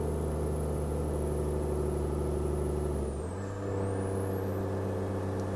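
Heavy truck engine labouring up a steep climb in Euro Truck Simulator 2 while hauling an oversize convoy load, a steady deep drone with strong low harmonics that drops in pitch partway as a gear shift occurs, loud and continuous.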